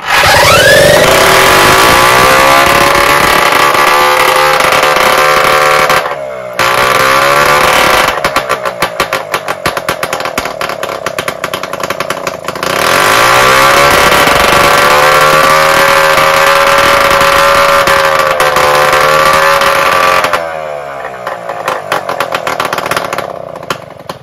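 A small engine fitted with a Solex carburetor fires up and runs loudly, its harmonic drone rising and falling as the throttle is blipped, with two short drops and a cutoff near the end.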